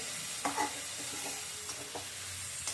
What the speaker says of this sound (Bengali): এবার নেড়ে ছেড়ে মাছের সাথে পেঁয়াজটা মিশিয়ে দিচ্ছি